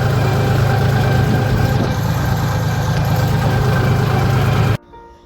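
A parked tractor fitted with a plough idles outdoors on a farm, its loud, steady low engine rumble continuing before cutting off abruptly near the end.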